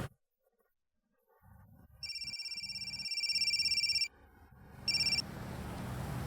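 A telephone rings with a steady electronic tone in two bursts, the second short, heard fairly close over a low rumbling background with no talk.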